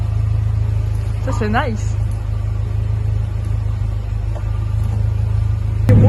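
A Mercedes CLK idles with a steady, deep, smooth rumble through its new final exhaust line. The engine note stays even and close throughout, and a short spoken remark is heard over it.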